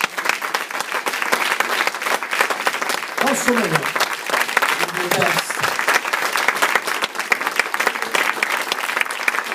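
A church congregation at an anniversary service gives a long, loud round of applause to the Lord, dense clapping throughout with brief voices and shouts rising over it.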